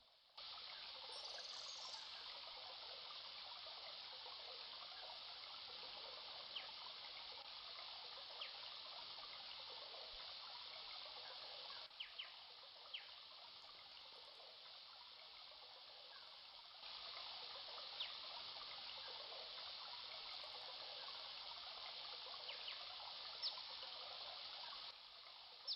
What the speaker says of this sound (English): The water flows swiftly between steep banks.